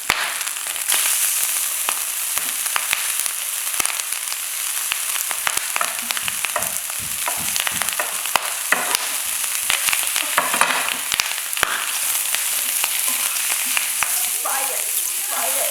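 Vegan japchae ingredients fry in a pan with a steady, crackling sizzle and scattered pops and stirring scrapes, moderately close and continuous throughout.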